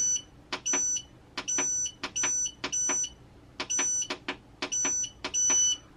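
Repeated electronic beeps from a Growatt 24V solar inverter in short double and triple bursts, high-pitched and sharp, sounding over a quiet background.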